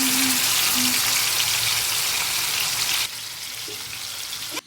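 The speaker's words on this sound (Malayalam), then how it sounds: "ഞാൻ ഒരുപാട് ഡീപ്പ് ഫ്രൈ ആക്കില്ല, എന്നാലും നല്ലപോലെ ഫ്രൈ ചെയ്തെടുത്തിട്ടുണ്ട്" Marinated fish fries in a pan with a steady, dense sizzle throughout, briefly accompanied by a low hum, then a slightly quieter sizzle continues after a sharp drop near the end; no one speaks.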